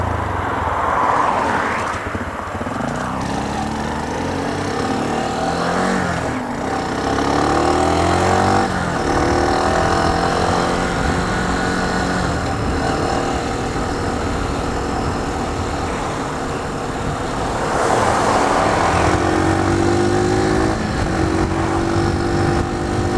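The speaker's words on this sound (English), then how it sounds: "today I'm test driving my friend's Lexmoto 125. This is the Assault version" Lexmoto 125 Assault motorcycle engine revving and shifting through gears, with rising pitch sweeps and a steady drone, fairly close and loud, with no talking.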